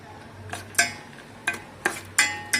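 Almonds and cashews are stirred in two spoons of ghee over a low gas flame. Several distinct, spaced clinks and scrapes of a spoon against the pan sit over a faint, soft sizzle.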